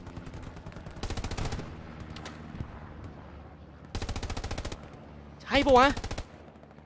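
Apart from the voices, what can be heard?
machine gun fire in the video game Hell Let Loose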